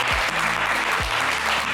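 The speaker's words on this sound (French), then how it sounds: "Moi, je voudrais qu'on l'applaudisse quand même très fort." A studio audience on a French television game show applauds a contestant, with dense continuous clapping mixed with low tonal music or bumper sounds.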